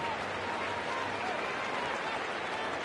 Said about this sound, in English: Fans here in Houston applaud him on his way off the field.